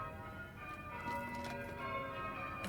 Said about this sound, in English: I hope you can all hear me over the bells, the church bells.